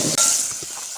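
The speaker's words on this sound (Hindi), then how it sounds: "ये देखें, प्याज हम अब फ्राई करेंगे और साथ ही इसमें हम लहसुन शामिल कर देंगे" Onion and garlic sizzling in a hot pan, a short burst of hissing frying with a faint stir.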